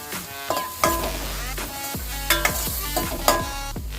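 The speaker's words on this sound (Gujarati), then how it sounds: "હવે બરાબર આપણે એને સાતડી લેશું." Onions and grated ginger are sautéed in a pan. A low sizzle runs beneath repeated ringing metallic scrapes and taps as a spoon stirs, about six distinct strikes over a few seconds, close and clear with no talking.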